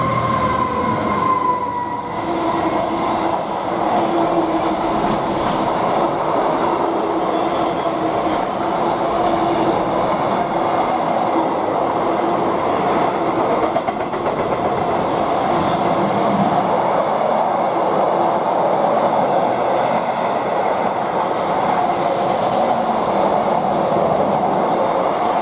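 Class 66 locomotive 66053 hauling a freight train from Birch Coppice to Southampton past Goring & Streatley, a loud sustained roar of engine and rolling wagons that continues steadily close by, with no voices.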